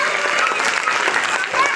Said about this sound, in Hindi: एक बार अपनी मम्मी के लिए ताली बजा दो।